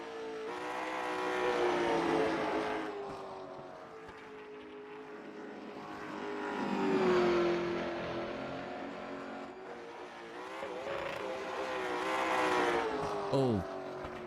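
Late model race cars lap North Wilkesboro in the iRacing sim, engine tones swelling and fading in long passes as cars brake hard and accelerate, one close engine whining through shifts under a continuous drone.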